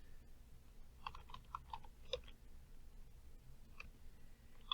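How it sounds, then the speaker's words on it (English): Light typing on a computer keyboard, a short irregular run of soft key clicks heard close but faint over a quiet background hum, with no talk. "it wants me to type in electronics and press enter"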